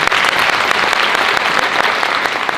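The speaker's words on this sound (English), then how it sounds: "Round of applause and welcome." Audience welcoming a public-radio morning host at an evening event claps continuously, a loud, even burst of applause with crisp individual claps audible, no voices over it.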